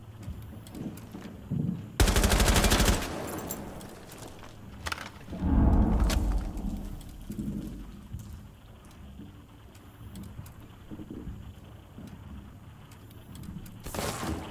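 Gunfire from the video game Rainbow Six Siege: two short loud bursts of automatic fire, then scattered quieter shots and footsteps under game ambience.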